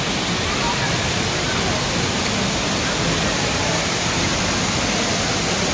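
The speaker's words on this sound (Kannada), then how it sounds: "one of the famous and favourite spot in Dubai mall water fall" The indoor waterfall at Dubai Mall roars with a dense, constant wash of falling water, loud and unbroken throughout.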